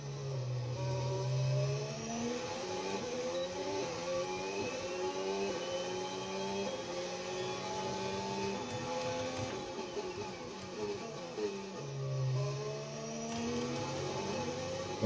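A race car engine in a Formula-style video game screams through a qualifying lap in Belgium, with loud, continuous high revs that rise and fall through repeated gear shifts. No one speaks.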